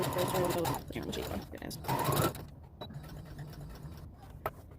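A sewing machine stitches a throw pillow case in a rapid, steady mechanical whir, loud at first and fading after a couple of seconds, with a person talking over it and faint clicks afterward.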